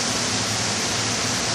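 Heavy rain pours down during a sudden storm in Oklahoma City, a dense, continuous hiss of water filling the sound with no break and no voices.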